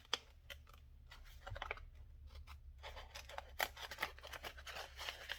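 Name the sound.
scissors cutting paper for junk journal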